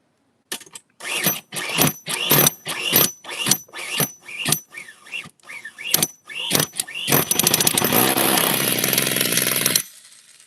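An OS 26 four-stroke nitro RC engine sputters in rough bursts of about a dozen short revs, then catches into a loud, continuous high-pitched buzz before cutting off abruptly.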